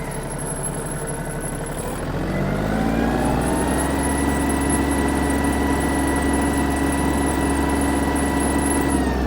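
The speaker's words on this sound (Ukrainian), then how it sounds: "трактор досить швидко набрав свою максимальну швидкість" A Yanmar RS-30 Japanese mini tractor engine drones steadily, picking up revs after a couple of seconds and then holding a constant, loud hum as it drives.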